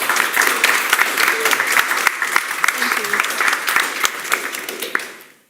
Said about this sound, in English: Can we have a round of applause for Vignesh, please?